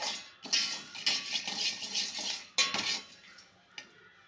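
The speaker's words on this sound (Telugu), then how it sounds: "పచ్చివాసన పోయేంత వరకు ఇవి బాగా వేపుకొని" Dry masala spices for chicken podi masala being roasted and stirred in a pan, a busy run of metallic spoon scrapes and clinks against the pan with a faint sizzle, close and steady with no talk.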